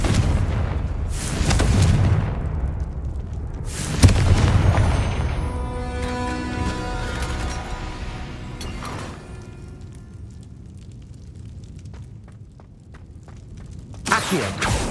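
Confringo fire spell from Hogwarts Legacy detonating as a loud booming blast, followed by crackling, ringing debris and a lingering rumble, with a second sharp impact near the end; no talking.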